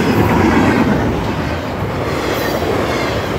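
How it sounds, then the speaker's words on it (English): A very long freight train rolls past steadily and close by, a continuous loud rumble of railcars with faint clickety-clack from the wheels, running without a break from start to finish. "The train seems to go on and on forever."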